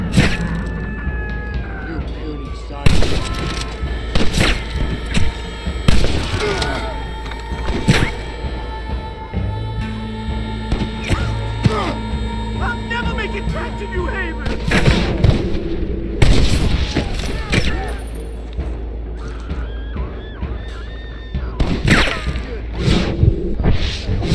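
Gunfire in Red Dead Redemption played on PC: repeated sharp shots and booming blasts scattered irregularly across a long firefight, some loud and close, some further off, with voices talking in between.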